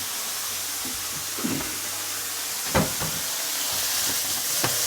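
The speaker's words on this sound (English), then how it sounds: "the water is going to create steam" Broccoli with a splash of water steams in a covered pan, giving a steady loud hiss throughout, with a few soft knocks and clinks over it.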